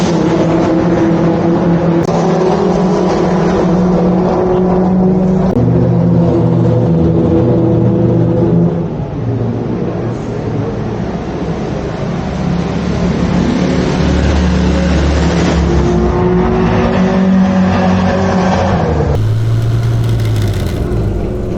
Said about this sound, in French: C'est une MEP X27 de 1971.